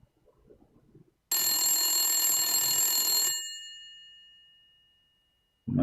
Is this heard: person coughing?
no